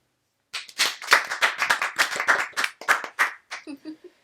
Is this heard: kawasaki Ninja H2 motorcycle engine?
no